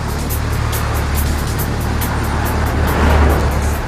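Steady roadside traffic on a 40 mph road, a continuous loud low rumble of cars going by, swelling slightly near the end as one passes closer.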